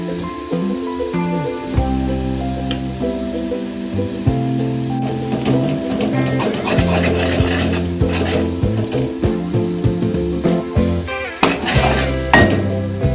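Chopped onion frying in a pan with grated coconut added and stirred in, a loud close sizzle under repeated scraping and clanking of a spoon against the metal pan, with no talking.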